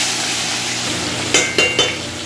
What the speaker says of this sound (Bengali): চলো মাছটা ভেজে নিই।